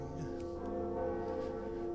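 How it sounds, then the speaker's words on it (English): The bell of awakening rings in the Dark Souls video game, with lava nearby. A sustained, humming metallic tone lingers steadily with its resonance, without talk over it. "We have rung the second bell of awakening."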